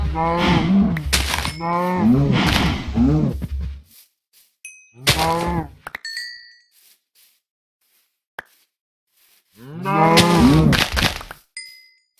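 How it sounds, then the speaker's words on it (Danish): Several cows low loudly in Minecraft, drawn-out video-game moos in three separate bursts with quiet gaps between them, and faint game chimes in the background. "Wow, der var mange køer"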